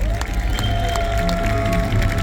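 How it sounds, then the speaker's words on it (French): An audience at the Parc Astérix stage show "Les Plongeons de l'Olympe" claps and cheers loudly and steadily, while an amplified voice and music carry on over the crowd. "Romains, Romaines, applaudissez à tout rond"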